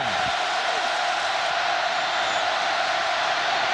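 Football stadium crowd at a Mississippi State at Auburn college game, a steady, loud roar of cheering and noise that holds evenly across the whole stretch.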